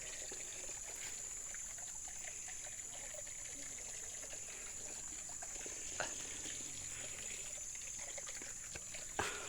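Water running steadily from a pump-fed tap, a faint continuous trickle and splash with a couple of brief knocks.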